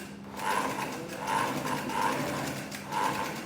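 A sewing machine mechanism turns with the needle down, giving soft, rhythmic mechanical pulses and light ratcheting clicks at a steady pace, close and fairly quiet, with no talk.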